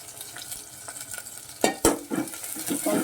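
Onions fry in a pan as the base for an eggplant and green pea masala curry, a soft sizzle broken by a couple of sharp clanks of a spoon against the pan midway, then busier stirring.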